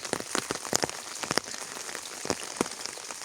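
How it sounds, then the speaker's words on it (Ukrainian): Steady rain patters on a hard surface, with dense, irregular drops tapping close by and no voices. "Там на вечір, бачите, пішов дощ."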